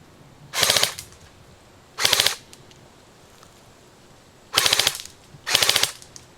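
Four bursts of rapid automatic fire from a custom-built M16-variant rifle on a game field, each a loud, fast-rattling volley lasting under half a second, separated by pauses of one to two seconds, with no talking.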